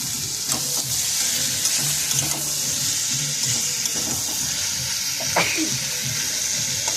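Boiled taro stolons (kochu loti) hit a hot pan and sizzle continuously, with occasional stirring scrapes and clinks from close by.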